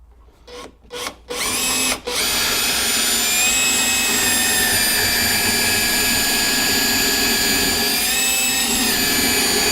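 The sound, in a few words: drilling through wooden stair string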